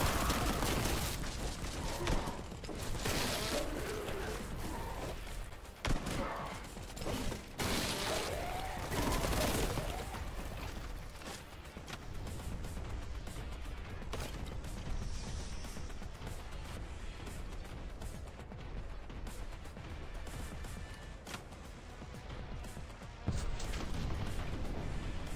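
Gunfire in the video game Boltgun, with dense, loud, rapid bursts of shots crowding the first half, then sparser blasts and rumbling mechanical clatter that continue to the end.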